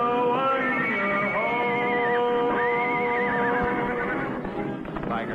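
Champion the Wonder Horse, in a 1950s television show intro, lets out a long, loud, close whinny with a high wavering neigh, followed by a second cry and light clip-clop at the end.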